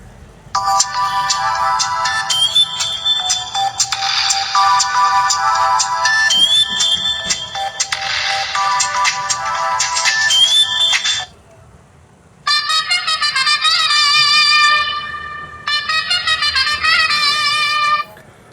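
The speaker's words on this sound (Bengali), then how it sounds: "ফোনটিতে দুইটা রিংটোন থাকলেও কিন্তু রিংটোন দুইটাই বেশ চমৎকার ছিল" Electronic ringtones from a Nexstar N201 button phone play loudly: a long bright melodic tune, a short pause, then a second, different beeping ringtone in two bursts.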